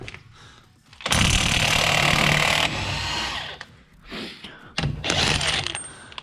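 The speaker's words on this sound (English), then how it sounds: "This impact is amazing. Normally that would take like a feat of strength and a floor jack and a, breaker bar and everything to get that nut off." An impact wrench loosens an axle nut during a motor and transmission install, firing loud sustained hammering bursts with short pauses between them and no talk.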